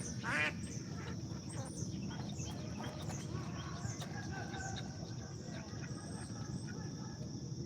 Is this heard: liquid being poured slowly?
no